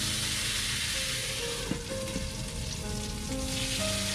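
Pork-belly-wrapped buns braise in a flat pan after a splash of cooking wine, giving a loud, dense, steady hiss and sizzle throughout with a faint sharp tick partway through.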